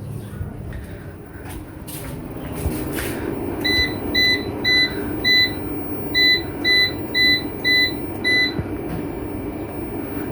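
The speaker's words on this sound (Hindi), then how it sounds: "ओवन भी ऑन कर दिया इन्होंने" A microwave oven in a home running on a 3 kW solar system is switched on, giving a few button clicks and then a run of nine short, evenly spaced beeps over a low appliance hum.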